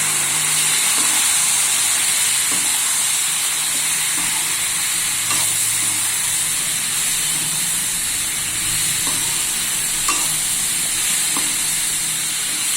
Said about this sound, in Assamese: আৰু এইফালে আলু, লাও আৰু মটৰ ৰেডি কৰি থৈ দিছোঁ। এতিয়া এইখিনি বহাই দিম।